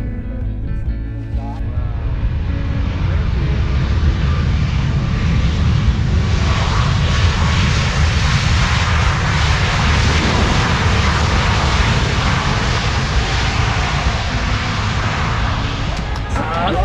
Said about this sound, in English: In a few moments, the plane from Singapore will land here in Siem Reap.